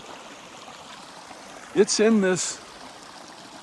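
A small stream flows along a trail near a big old cottonwood in a little draw, giving a soft, steady trickling hiss in the background while someone speaks briefly over it.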